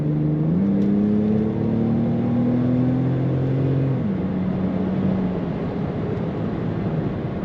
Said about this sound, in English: Good acceleration, crisp throttle response